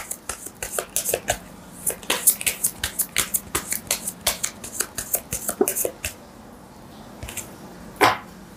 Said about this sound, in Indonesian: Saya ambil 5 kartu lagi ya.